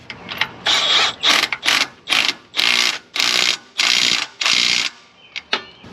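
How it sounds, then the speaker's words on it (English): Repeated bursts of a ratchet or power driver tightening bolts on the suspension of a 2015 Tahoe/Silverado 1500 during a leveling kit install, about eight short whirring runs in quick succession, close and loud. "now we're going to go ahead and tighten these bolts back down"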